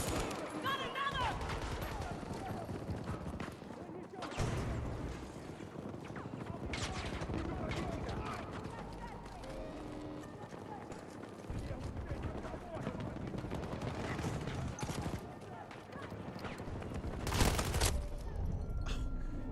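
Dense gunfire in a battlefield video game, rapid bursts and single shots running continuously with heavy booms at moments, mixed with someone talking.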